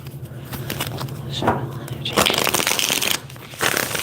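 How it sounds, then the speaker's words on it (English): Tarot cards from a love-situations deck being shuffled close up, a run of soft riffling and rustling bursts under steady room tone, with a brief gap before the shuffling resumes near the end. "I like to shuffle my cards first."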